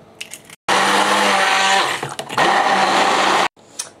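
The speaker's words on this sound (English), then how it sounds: "add an egg to that, and then I'm going to blitz that" Kitchen blender blitzing a lasagne mixture seasoned with cayenne pepper and pepper with an egg added, two loud whirring bursts with a brief dip between them, ending abruptly into quiet.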